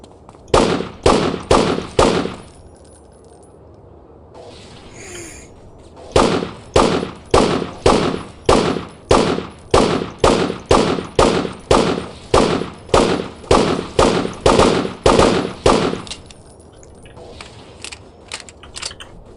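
Rapid repeated gunshots in the video game Devastation, loud, evenly spaced sharp cracks in two long runs separated by a brief pause, with little else underneath.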